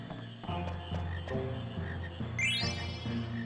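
Frogs croak in Final Fantasy IX, loud repeated croaks in an irregular rhythm over a background of game music, with a bright rising chime partway through and no speech.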